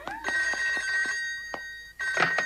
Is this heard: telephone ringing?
yes